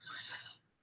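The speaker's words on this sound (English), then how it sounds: "I'm sorry I keep clearing my throat." A brief, raspy throat clearing, a single short rough burst, followed by silence and a sharp click at the end.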